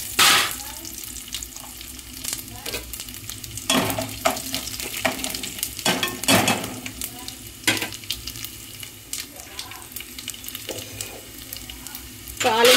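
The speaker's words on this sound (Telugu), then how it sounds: "తాలింపు గింజలు వేసుకోవాలండి." Tempering seeds with garlic, cumin and curry leaves frying in hot oil for a peanut chutney, a steady close sizzle broken by repeated stirring scrapes and clinks in a home kitchen.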